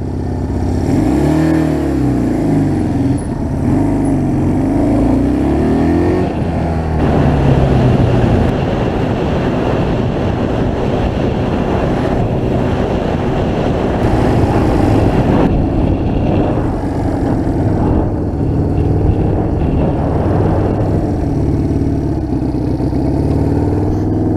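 A Honda CL175 motorcycle with questionable carburetors rides at highway speed. The engine drones loud and continuous throughout, with rising and falling pitch as it revs and strong wind roar.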